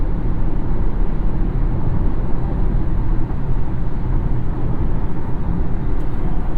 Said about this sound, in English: this is a concrete section of highway, but maybe a little bit more road noise than somebody might want in this segment